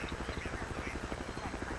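A helicopter in a video game thuds with a fast, even rotor chop, steady and fairly close for the whole stretch.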